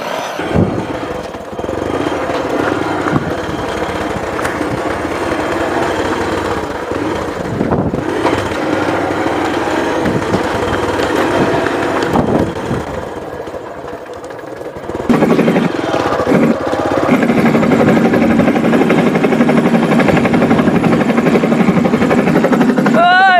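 A homemade toy helicopter's small motor runs with a high, buzzing whine that rises and falls, loud and close, with gusty outdoor wind and people talking around it.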